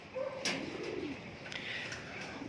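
Racing pigeons coo softly in a few low, rolling calls, close by and fairly quiet, with faint background chatter of other birds.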